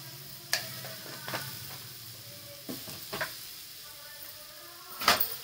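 Turmeric and red chili powder frying in a pan for a bottle gourd bharit, with soft sizzling broken by several sharp clinks and scrapes of a stirring spoon against the pan.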